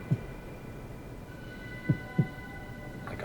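Heartbeat sound effect in a tabletop roleplaying campaign prologue: a few soft, deep thuds, one alone and then a close pair, over a low steady hum with no talking.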